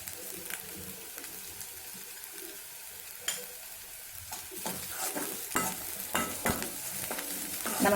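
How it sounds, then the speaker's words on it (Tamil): Cumin seeds sizzle and crackle in hot oil in a Tamil home kitchen, a steady frying hiss with occasional sharp pops and stirring clatter that grows louder toward the end. "லைட்டாக ஜீரகம் போட்டுக்கோங்க."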